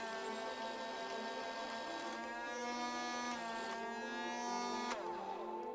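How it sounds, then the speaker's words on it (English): A rapid-fire Hyperfire Elite gun in Mass Effect 2 gives off a steady, buzzing electric whir like a vacuum cleaner, droning continuously at moderate loudness with no talking. "Sounds like a goddamn vacuum cleaner"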